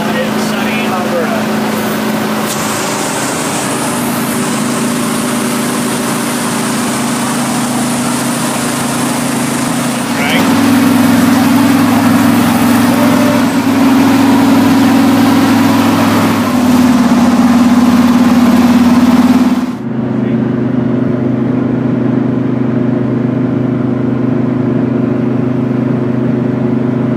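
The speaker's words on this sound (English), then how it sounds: "we're carrying on in our lovely Fargo on the number one highway westbound in sunny Alberta" A Fargo truck cruises westbound on the number one highway in Alberta, its steady low engine drone and road rumble continuous throughout, growing slightly louder midway before easing, with talk over it.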